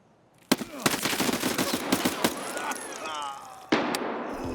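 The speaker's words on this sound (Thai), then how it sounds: "จากมุมนี้นะครับผมได้ยินเสียงปืนที่ดังมาจากอีกฝ้าครับ" Gunfire in Escape From Tarkov, a sharp report followed by a rapid burst of shots with clattering steps and movement in between, ending with another loud single shot close by.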